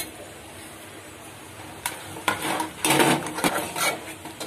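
Spoon scraping and clattering in a pan while a flour, sesame, cumin powder and chili powder mixture is stirred, quiet at first, then a run of louder irregular scrapes and knocks up close.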